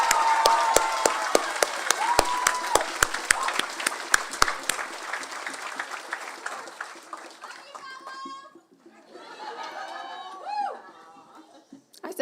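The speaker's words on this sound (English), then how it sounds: "A huge round of applause." A crowd at a high school graduation claps for the support staff, with sharp, rhythmic clapping up front that thins out over several seconds, then gives way to children's voices and chatter near the end.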